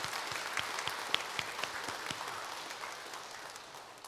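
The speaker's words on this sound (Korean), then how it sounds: "우리 교회학교 다음 세대를 위하여 다시 한번 박수하겠습니다." Church congregation applauding during a Sunday service, a soft, fairly distant patter of many hands with a few sharper individual claps, fading gradually toward the end.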